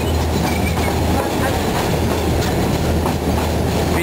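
A passenger train running through a long tunnel near Shimla, a constant loud rumble with rhythmic clickety-clack of the wheels, heard from inside a carriage.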